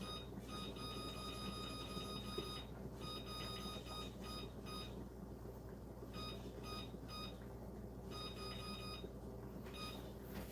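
A kitchen timer, set for sweet potatoes, beeps in quick repeated bursts, faint and steady over a quiet room hum.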